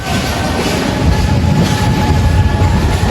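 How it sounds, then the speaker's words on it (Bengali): A train rolls slowly toward Dhaka's Airport railway station, heard from up on its roof: a loud, continuous rumble of wheels and carriages with a faint rhythmic clatter and a thin steady whine. "আমাদের ট্রেনটি স্লো মোশনে আগাচ্ছে সামনের দিকে"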